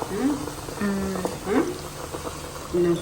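Homemade herbal hair oil, about a kilo of oil with crisp-fried onion, simmers gently in a pan with soft, steady bubbling and sizzling while someone talks over it.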